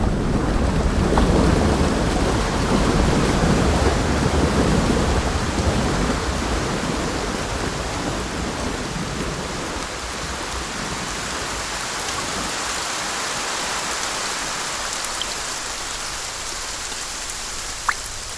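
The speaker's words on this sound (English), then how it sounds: "It rains in India between June and September." Heavy monsoon rain in India pours down in a dense, continuous hiss of drops striking surfaces, steady and enveloping, with a deeper rumble early on that eases slightly as it goes.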